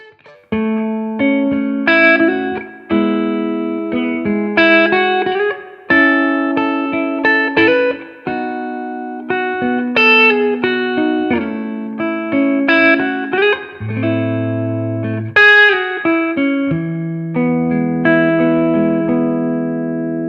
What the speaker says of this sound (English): Chime is an original amp design called Carillon for those classic chime tones.